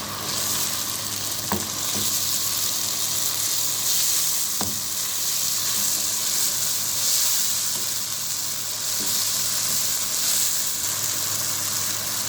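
Garlic and tomatoes fry in a pan for ful, a steady close sizzle and hiss with a few light clicks of stirring.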